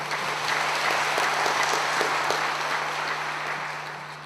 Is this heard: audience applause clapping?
yes